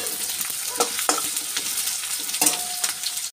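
Onions fry in a pan with a loud, steady sizzle, punctuated by scraping stirs and clicks of a utensil against the pan, close up and without speech, ending abruptly.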